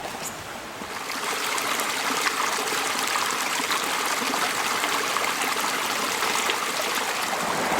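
A creek in the Appalachian Mountains flows in steady rushing burbles and trickles, close and fairly loud, swelling slightly after the first second with no voices.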